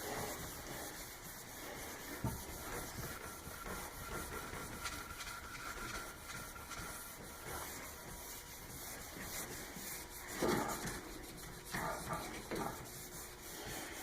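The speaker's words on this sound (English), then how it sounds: "I take my felt pad and polish it a little bit more" A felt pad rubs over a freshly waxed downhill ski base, making a faint, continuous hissing friction with uneven strokes and no talk.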